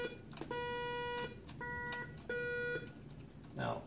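An FPGA audio synthesizer plays a square wave tone, three steady buzzy notes at differing pitches in short sustained bursts, with brief talk around them.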